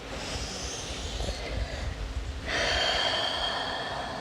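A deep, audible breath taken during a slow stretching and breathing exercise: a long, close inhale followed by a broader, louder exhale, heard alone without speech.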